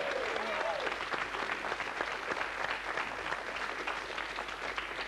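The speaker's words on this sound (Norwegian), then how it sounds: "Applaus for det." A television studio audience gives a sustained round of applause, dense and even clapping heard at moderate distance.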